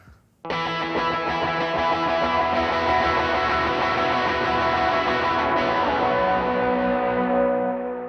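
A sustained electric guitar chord rings out thick with delay and reverb, the repeats blending into a dense wash that slowly fades.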